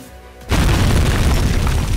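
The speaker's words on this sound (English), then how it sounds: "He just exploded." A loud, deep boom erupts in an Amnesia custom story video game after a quiet start, then rumbles on with a dense roar to the end.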